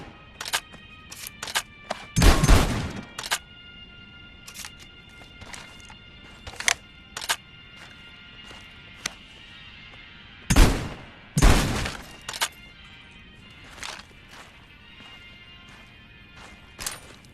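Gunshots in the VR shooter Medal of Honor: Above and Beyond, spaced single sharp cracks with a couple of heavier booming blasts, separated by pauses, over quiet background hum.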